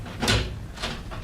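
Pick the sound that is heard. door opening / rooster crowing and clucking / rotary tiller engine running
door opening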